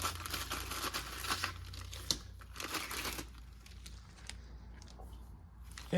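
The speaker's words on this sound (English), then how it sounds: "We'll go into our second plastic bag here." Crinkling plastic of a Latvian military ration pack (pork with buckwheat menu) being torn open, with bursts of crackling rustle close up during the first three seconds that fade into quieter handling.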